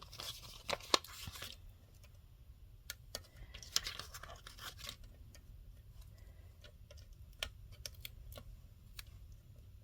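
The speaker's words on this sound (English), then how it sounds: "Should probably remove the release paper, right, from that bottom layer." Release paper peeled off the bottom layer of a mixed media card, giving faint scratchy tearing and crinkling with a few sharp ticks, close and quiet, with no talk.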